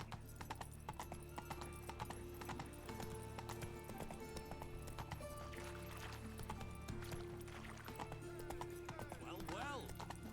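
Roach, a horse in The Witcher 3, gallops with a rapid hoof rhythm under in-game music and ambience, and a voice speaks partway through.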